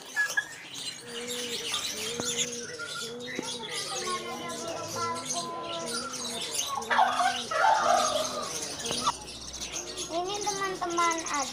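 Bird market stalls with caged birds, chickens and junglefowl: repeated soft cooing and scattered chirps and calls ring out close by, with a brief louder burst of squawking midway and steady market background.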